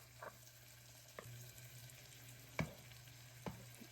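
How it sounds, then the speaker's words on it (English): Garlic sautéing in a pot alongside earlier-cooked bacon for chicken corn chowder, a faint low sizzle with a steady hum beneath and several sharp spoon scrapes and knocks at irregular intervals. "we'll add in that garlic and saute it for 1 minute"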